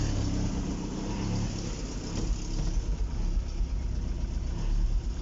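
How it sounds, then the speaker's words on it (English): A car with an oil pressure fault idles roughly in a workshop, a low, uneven engine rumble close by with slight surges in level toward the end and no talking over it. "Idling is hier hectic"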